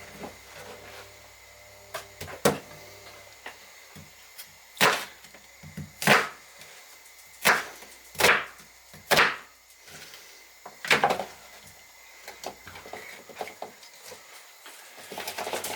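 A knife slices through a Desiree potato, trimming a bad spot from the top: sharp, separate cutting clicks, some in quick pairs, close by against a quiet room, with no voice.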